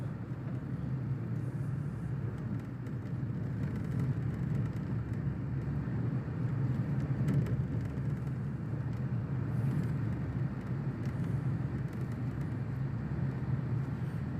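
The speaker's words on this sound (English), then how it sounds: "here's a little drive over the lava road" A car drives over a lava road in Iceland during a recent eruption, with a steady low engine and road rumble lasting throughout at constant level, with no voices.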